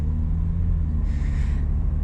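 A 4-cylinder engine in a VN Commodore with a 3-speed, running while driving: a steady, low, droning rumble, close and constant, with a faint hiss briefly rising above it.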